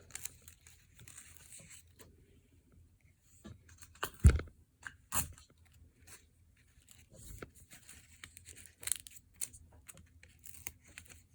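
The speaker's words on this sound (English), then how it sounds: "these straws will now get taped to the outside of the small circle" Tape is torn and pressed onto paper straws while building a homemade air zoomer toy: a few short, sharp rips and crinkles, close and quiet, scattered between pauses with no talking.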